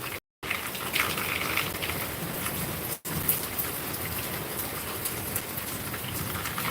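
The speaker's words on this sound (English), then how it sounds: "We are looking at the sights and sounds of my sunshine garden on a rainy day." Steady rain patters down across a garden on a rainy day, a dense, even hiss of drops close by that breaks off twice for a moment before resuming.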